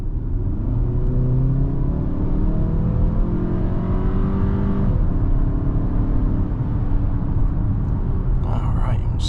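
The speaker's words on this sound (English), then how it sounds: "just kind of mash the throttle from there to kind of simulate a quick highway entrance kind of scenario" A 2027 Kia Telluride with a 2.5-liter turbo inline-4 accelerates hard from about 25 mph in a simulated highway merge, its engine drone rising steadily in pitch under road noise with a gear change midway.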